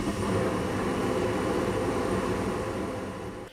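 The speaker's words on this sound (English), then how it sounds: "You should hear the gas ignite. It'll sound like little jet engines." Gas furnace burners light and settle into a steady, broad roaring rush like small jet engines, a constant close whoosh lasting a few seconds before easing slightly at the end.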